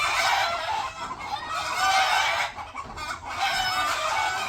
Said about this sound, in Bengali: মুরগিতে মেলা লাগাইছে